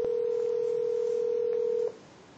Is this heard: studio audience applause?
no